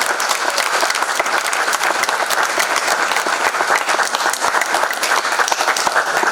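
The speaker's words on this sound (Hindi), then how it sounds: "कृपया जोरदार तालियों से स्वागत कीजिए।" Theater audience applauding at a stage show at the Gaiety Theatre in Shimla, a dense, steady crackle of many hands clapping, loud and continuous throughout without speech.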